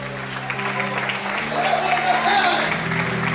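Church congregation applauding during a Portuguese-language sermon service, a broad continuous wash of clapping and crowd noise that swells slightly midway, with a sustained voice or tone rising through it.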